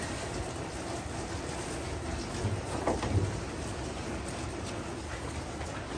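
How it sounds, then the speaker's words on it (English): Heavy rain pours down steadily outdoors, a dense, constant hiss that holds at an even level throughout, with no talking heard. "It is just literally started really raining hard."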